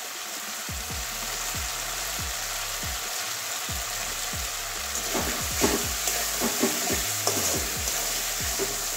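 Spice masala and tomato frying in oil in a pan, with a steady close sizzle broken by a series of rhythmic stirring scrapes, the scraping growing busier toward the end.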